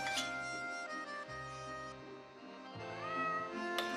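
A cat meows in a cat food advertisement, several drawn-out tonal calls that rise and fall, close and fairly soft, with no talking over them.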